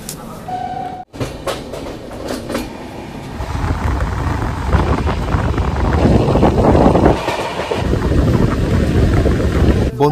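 The 12041 Shatabdi Express runs from Howrah to New Jalpaiguri, heard from on board as a loud, continuous rail rumble with wind buffeting that swells after the first few seconds and holds steady, with no talk.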